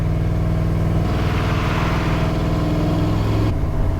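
Loud and close, a cammed V8 Chevy squarebody truck strains against its rear brakes while trying for a burnout, its choppy engine note swelling in pitch and roughness before dropping back near the end, with no one talking.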